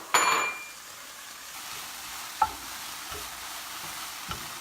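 Asparagus warming in a sauté pan with spinach and arugula over low heat, a soft steady sizzle after an opening clatter, with a few light stirring knocks.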